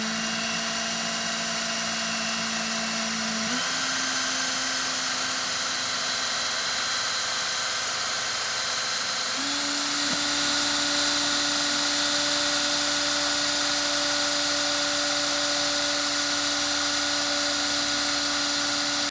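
A drill spins Nichrome 80 wire into a fused clapton coil, a steady close whine that jumps up in pitch twice as the speed increases, with no talk.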